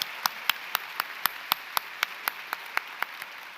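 Sparse, evenly spaced claps from a small audience at an awards ceremony, each crisp hand clap distinct and fairly faint, recurring roughly every quarter second.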